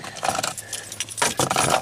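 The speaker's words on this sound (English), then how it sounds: "Keys already in it." A set of keys jangles in the ignition of a Chevy with a no-crank fault, bright metallic rattles in two close bursts separated by a short quiet pause.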